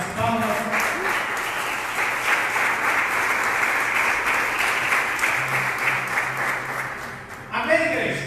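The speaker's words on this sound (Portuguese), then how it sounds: "Podeis assentar e exaltar o Rei Jesus com as palmas." A church congregation claps together to praise Jesus during worship, a dense, steady wall of many hands sustained for several seconds before tapering off near the end.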